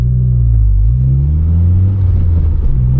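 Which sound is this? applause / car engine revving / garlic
car engine revving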